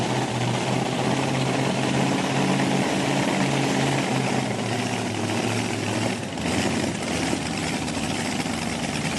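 A pulling truck's engine roars at a tractor pull event, a loud, sustained, droning mechanical rumble that holds steady throughout and shifts slightly in tone partway through, with no talking.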